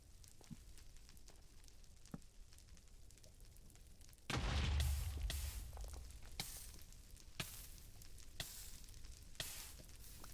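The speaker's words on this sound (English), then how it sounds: "I can do another explosion here." Minecraft explosions blast through blackstone while ancient debris is mined, one deep boom followed by a string of sharp crackling bursts spaced a second or so apart over quiet game ambience.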